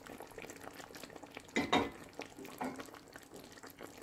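Chopped, peeled medium tomatoes tumble into mutton frying for Peshawari namkeen gosht, giving a brief burst of sizzle and stirring around the midpoint over a steady low frying hiss.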